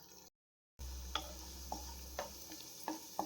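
Cashews and raisins toast in hot ghee with a steady, faint sizzle, broken by a brief silence and a few light clicks of stirring.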